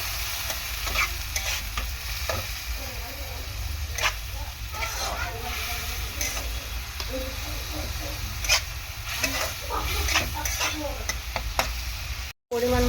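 A spice paste of chili powder and cumin powder, thinned with a little water, sizzles steadily in a pan while a spoon stirs and scrapes close by, with a continuous bubbling hiss throughout.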